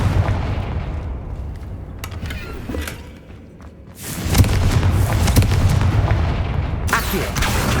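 Confringo fire spell from Hogwarts Legacy, a video game, set off as a series of loud booming blasts and sharp cracks amid rumbling battle noise, with a brief quieter lull before the barrage resumes.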